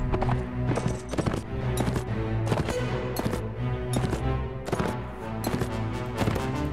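Horse hooves gallop in Mount and Blade, a fast, loud, rhythmic clatter of hoofbeats with sharp clashing hits mixed in and continuous low rumble underneath.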